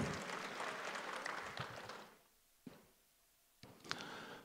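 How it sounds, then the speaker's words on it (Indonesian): Applause from an audience at a national youth organization working meeting fills the first two seconds, then fades to near quiet with a few scattered claps and a brief renewed burst. "Tepuk tangan buat pemerintahan kita"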